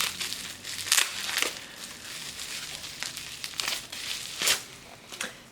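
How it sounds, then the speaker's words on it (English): A bubble-wrapped package from a book box being unwrapped, with close crinkling and crumpling of plastic broken by sharper crackles and brief tearing bursts, continuous and moderately loud with no voice. "All right, next, another bubble wrapped package."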